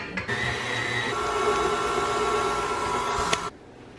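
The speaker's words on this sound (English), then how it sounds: "So we're gonna put this on the mixer and we're gonna mix these until they are nice and fluffy." Electric mixer with a whisk attachment creaming cream cheese and butter in a home kitchen, a steady whirring motor hum running for about three seconds before cutting off, close and fairly loud.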